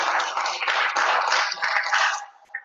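Audience applause at a spring gathering keynote by an Ohio state senator: a dense, steady wash of many hands clapping at close range, holding level for about two seconds, then thinning out with a few last scattered claps.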